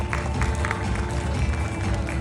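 A hotel audience applauds after a magic trick, a short steady wash of clapping and crowd noise at moderate distance.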